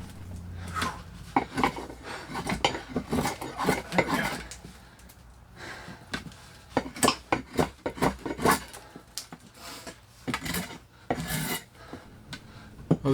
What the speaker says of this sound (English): That is a razor sharp draw knife with a perfect chisel grind.